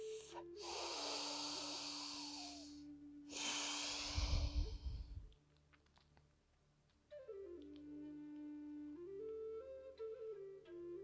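Deep, forceful yoga breaths during a slow flow: long hissing exhales through the nose and mouth, one ending in a heavy rushing puff, then quiet with soft background music.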